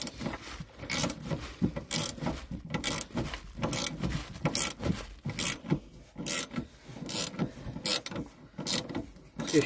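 A car jack worked under a car during air suspension repairs, giving rhythmic, closely recorded ratcheting and rasping strokes that repeat steadily throughout, with no voices.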